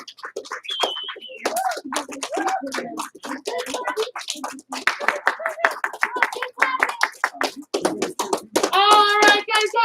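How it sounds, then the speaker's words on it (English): A martial arts class applauds a student earning his white belt, a crowd of hands clapping steadily among children's and adults' voices talking and calling out. "Everybody give him a huge round of applause."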